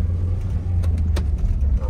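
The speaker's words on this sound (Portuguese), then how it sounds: "Bora dirigir esse Fuscão aqui pra ver como é que é" A Volkswagen New Beetle pulls away with a low, steady engine hum close by, plus a few faint clicks over the brief moment.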